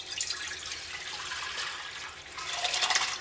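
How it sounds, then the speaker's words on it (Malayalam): Water pours into a pressure cooker holding lentils, a steady hissing splash that swells again toward the end, with no voices. "പരിപ്പ് വേവിക്കുമ്പോൾ കുറച്ച് വെള്ളം കൂടുതൽ ഒഴിച്ചിട്ട് വേവിക്കാം"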